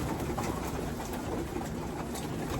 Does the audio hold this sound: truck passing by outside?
no